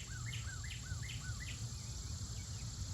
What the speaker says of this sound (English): That is a woodpecker.